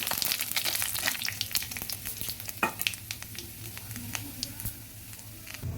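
Black cumin and cumin seeds fry in hot oil while being stirred, a close, continuous sizzle with scattered crackles and utensil knocks, moderately loud throughout.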